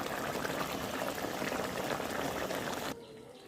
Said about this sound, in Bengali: ঝোল ভালোভাবে ফুটে গিয়েছে